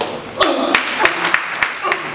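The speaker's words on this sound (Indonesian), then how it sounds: "Kita tepuk tangan." A church congregation at an Indonesian sermon claps in short bursts, a series of sharp, fairly close claps roughly every third of a second, mixed with murmured voices from the crowd.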